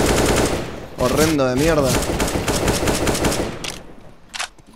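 Fast bursts of automatic gunfire crackle in a Counter-Strike match, loud and close, with a player's angry voice talking over the shots partway through before the firing trails off.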